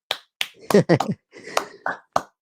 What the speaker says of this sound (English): I was knuckle clapping them.